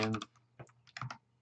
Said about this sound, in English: Oops, I should be able to type.